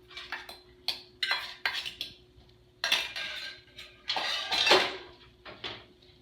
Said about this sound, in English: I'm gonna add the eggs. Going all around the pan, covering all the pan.